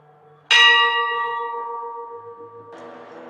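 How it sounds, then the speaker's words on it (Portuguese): A single church bell strikes loudly and rings out with a long, slowly fading metallic hum, then a second softer strike begins. "Aqui nós temos o sino"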